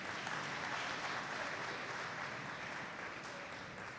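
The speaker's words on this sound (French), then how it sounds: "Je vous prie de les applaudir, s'il vous plaît." A church congregation at an Advent Sunday Mass applauds the choir and musicians, giving steady, even clapping that carries through a reverberant space at moderate volume and fades slightly toward the end.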